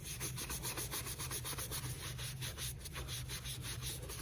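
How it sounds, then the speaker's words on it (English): Brush scrubbing a Victor Cruz trainer shoe in quick rhythmic back-and-forth strokes, a steady close bristly rubbing with no talking. "So, everywhere on the shoe you can scrub the brush."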